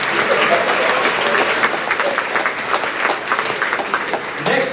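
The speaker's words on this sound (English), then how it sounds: "Give a round of applause, too." A large crowd at a university athletic awards ceremony applauds steadily and loudly, a dense wash of clapping that continues for several seconds without a break.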